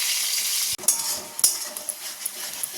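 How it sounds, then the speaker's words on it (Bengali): Fish frying in a pan in a home kitchen, a steady bright sizzle broken by a brief pause and a couple of stirring or utensil clinks, close and alone. "এখানে মাছ ভাজা বসিয়ে দিয়েছি"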